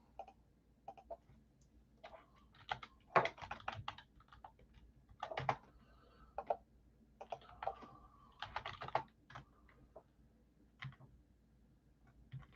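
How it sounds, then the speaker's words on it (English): Typing on a computer keyboard comes in irregular bursts of quick, close clicks separated by short pauses, with faint background hum and no talking. "you can see me typing, hopefully"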